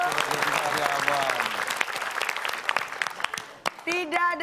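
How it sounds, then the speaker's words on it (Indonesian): Studio audience clapping on a TV quiz show, a dense burst of applause that thins out after about three seconds while a host talks over it and music begins near the end. "Kasih tepuk tangan."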